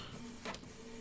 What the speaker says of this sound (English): See if my printer's working or if it's still broken.